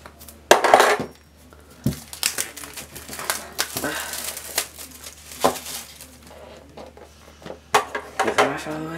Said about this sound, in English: I got a knife here, just so I can quickly undo all this packaging.